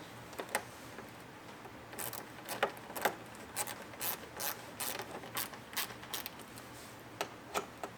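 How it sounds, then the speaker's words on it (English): A T15 Torx bit on a ratcheting wrench snugs mud flap screws on a 2022 Chevrolet Silverado 1500 ZR2, giving a quick run of close, crisp ratchet clicks in short bursts with brief pauses between them. "Now we'll grab our wrench with the T15 Torx."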